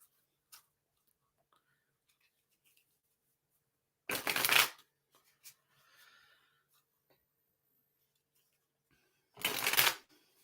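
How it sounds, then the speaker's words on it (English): Two brisk riffle shuffles of a deck of tarot cards, close and crisp, separated by several seconds of near silence with faint handling clicks and a card being drawn. "let's draw our card for next week."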